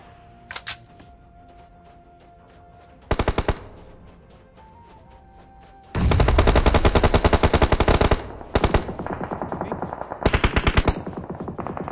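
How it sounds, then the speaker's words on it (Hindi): Automatic rifle fire in a PUBG Mobile squad match played on a Poco F1 during scrims: a short burst, then long sustained volleys of rapid shots and several more bursts, loud and close with no talk. "तो यहाँ पर मैं हल्का फुल्का फायर देता हूँ"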